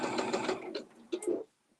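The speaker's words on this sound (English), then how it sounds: "So now we're just going to stitch all the way around the top." A sewing machine stitches around the top of a sewn piece in a rapid steady run, pauses, then fires off a couple of short bursts before stopping, close and clear.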